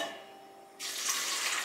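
Water from a tap splashes into a container indoors with a steady, loud rush that starts abruptly after a quiet moment and continues without pause.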